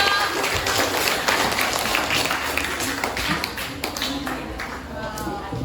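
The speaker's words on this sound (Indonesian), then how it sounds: "Tepuk tangan dulu dong" Seminar audience clapping together at a time-management motivation seminar, a dense, steady patter of many hands that holds for several seconds with voices mixed into the crowd noise.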